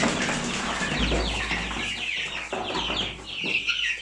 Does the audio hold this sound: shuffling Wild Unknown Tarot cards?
no